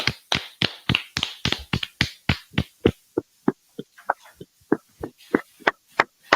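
Audience at an ISUPK class claps together, a steady run of sharp, distinct claps that starts dense and loud, then thins into slower, scattered hand claps near the microphone.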